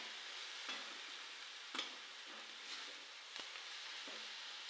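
A mixed leafy vegetable sautéed in a pan over low to medium heat, a quiet steady sizzle broken by several spatula scrapes and stirs, close and faint, with no voices.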